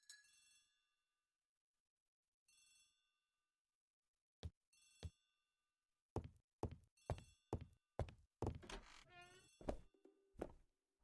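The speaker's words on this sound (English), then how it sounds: "The telephone in the hall is ringing." An old-fashioned telephone bell rings in a hall in two clear bursts, followed by a run of sharp knocks and thuds that grow busier toward the end.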